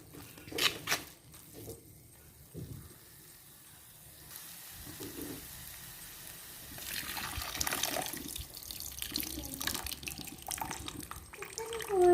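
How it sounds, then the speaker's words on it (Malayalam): Water pours steadily into a hot pan of fish curry, rising into a hiss and sizzle that continues for several seconds, close up with no voices. "ഇനി നമുക്കിതിലേക്ക് നമ്മുടെ വെള്ളം ഒഴിച്ചു കൊടുക്കാം"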